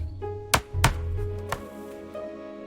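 Chopping food for a fish curry in a cartoon kitchen, with three sharp knife strikes on a cutting board spaced about a second apart and a fainter tap later, over a low steady background tone.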